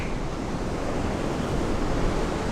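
Ocean waves on the beach at Ocean Beach in San Diego, California: steady loud surf roar with wind buffeting the microphone and no voices.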